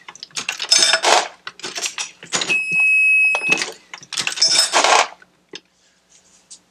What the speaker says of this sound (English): So we should get an alarm because there's no cartridge in there, so that would kind of simulate no charge.